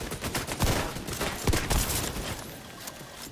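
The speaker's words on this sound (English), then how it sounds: "Shoot at me, turret." Turrets fire at the player in a video game, a dense, loud run of rapid gunfire with overlapping bursts and sharp reports that carries on for the whole stretch with hardly any gap.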